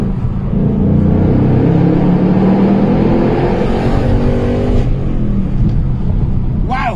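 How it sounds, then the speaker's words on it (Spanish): A 2021 Ford Mustang Mach 1's 480-horsepower engine rumbles and climbs in pitch as it rev-match downshifts and accelerates hard, loud and close, with a voice talking over it. "voy a hacer un Rev Match para que escuchen cómo acelera"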